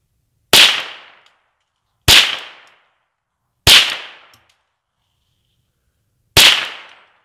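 Four loud, sharp gunshots fired at a pumpkin, each a crisp crack with a short decaying tail, spaced irregularly with silence between them.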